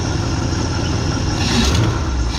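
A Ford truck engine idles steadily with a low rumble and a faint hissing intake breath from a slightly leaking carburetor, continuous and close throughout.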